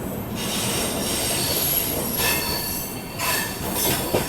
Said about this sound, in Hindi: अपनी ट्रेन यहाँ पे 5 मिनट रुकती है और डिपार्चर हो चुका है अपना भागलपुर रेलवे